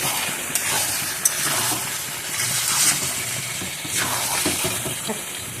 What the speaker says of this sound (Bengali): খুব ভালো করে কষাচ্ছি আমি